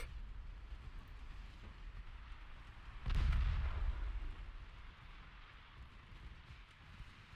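Torpedo explosions striking warships in the naval battle game Ultimate Admiral Dreadnoughts, a single heavy booming blast rising out of a steady low rumble of battle noise, then slowly fading back into the din.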